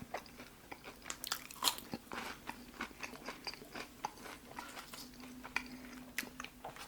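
Close crunching bites and chewing of piping hot Burger King fries, irregular crisp crunches spread across the clip over a quiet background, with no talking.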